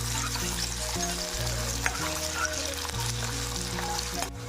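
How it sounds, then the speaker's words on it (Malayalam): Onions sauté in hot oil in a kadai with a steady, moderate sizzle and crackle, broken by the occasional soft scrape of stirring. "അതിനായിട്ട് കടായിൽ എണ്ണ വെച്ചു ഉള്ളിയിട്ട് വഴറ്റാണ്."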